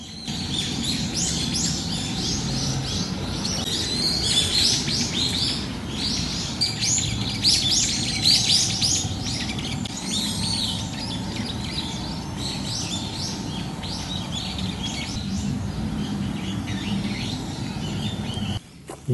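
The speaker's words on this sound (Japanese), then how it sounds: "鳥がよく鳴きます。" Many birds chirp and sing around a Tenjin shrine in Machida on a quiet morning. The bright calls overlap continuously at moderate distance over soft ambient background, and no one speaks.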